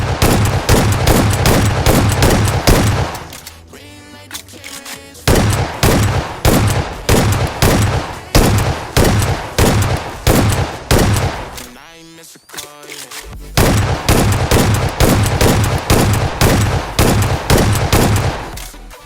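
A shotgun fires again and again in a shooter video game, loud, punchy blasts in fast unbroken bursts separated by two short pauses.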